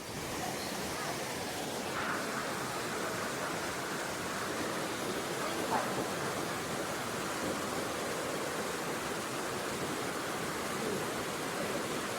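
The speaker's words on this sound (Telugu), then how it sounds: "ఈ వాటర్ సౌండ్ మాత్రం మీరు కాసేపు విని ఎంజాయ్ చేయండి" Kuttralam main waterfall in Tenkasi roars as a steady, broad wash of falling water. The sound is continuous and even, with no voices over it.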